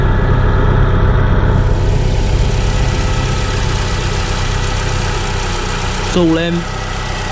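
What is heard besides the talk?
Mini Cooper 1.6 R50 R53 engine idling smoothly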